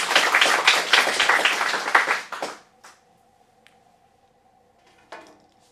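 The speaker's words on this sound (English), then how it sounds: "All right, round of applause." A small audience at an acting studio showcase bursts into loud, close applause that fades out after a couple of seconds, leaving near silence with a few faint knocks.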